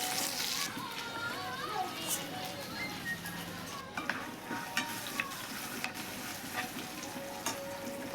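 Potatoes and okra frying and sizzling in a pan, with steady crackle and occasional stirring scrapes close up, faint voices now and then in the background.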